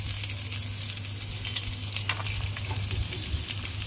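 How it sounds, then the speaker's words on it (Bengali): Garlic added to oil with dried red chillies already fried: a steady, close sputtering sizzle with fine crackles throughout, no voices. "দেখো শুকনো লঙ্কাটা কিন্তু মোটামুটি ভাজা কমপ্লিট হয়ে গেছে এবার আমি রসুনটাকে দিয়ে দেবো"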